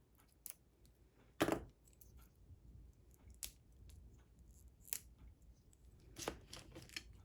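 Scissors snip away at tightly stuck packaging in a quiet room, a handful of sharp, scattered cuts and crunches with pauses between them, faint overall apart from one louder snap.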